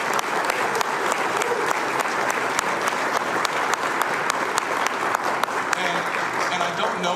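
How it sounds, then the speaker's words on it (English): A room full of people applauds, with steady, dense clapping that holds at an even level throughout. "That is worth a round of applause."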